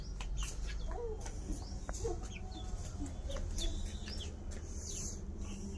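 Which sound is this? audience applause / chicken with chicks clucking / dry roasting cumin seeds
chicken with chicks clucking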